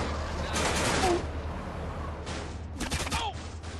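Bursts of gunfire in GTA San Andreas, a rapid cluster of shots early on and another sharp volley near the end over a steady low game rumble, with no talk.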